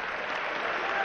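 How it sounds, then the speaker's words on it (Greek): Basketball arena crowd at a Greek league game between Lavrio and Olympiacos breaks into steady applause, a brief dense burst of clapping at moderate level. "Χειροκροτήματα όμως και για τους δύο."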